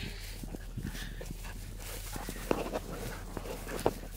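A hunting dog searches for a bird outdoors, making faint movement, soft whimpers and occasional sharp sounds over a steady low background hum.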